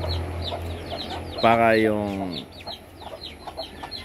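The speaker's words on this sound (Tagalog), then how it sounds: "At yan ang pinapakain natin sa ating mga alagang manok." Farm chickens cluck around a feeding spot where kitchen leftovers are given to them, with a loud rising rooster-like call breaking through mid-clip and softer repeated clucks continuing under a voice speaking.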